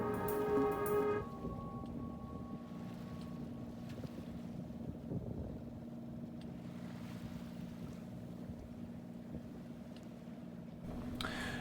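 A sailboat motor-sailing on the open sea in light wind, its engine giving a steady low drone with water and wind noise throughout, after a brief tonal hum at the start.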